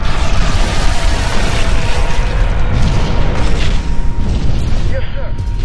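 Missile explosions in Halo Wars, dense rolling booms and blasts piling over one another in a loud, continuous battle din with voices underneath.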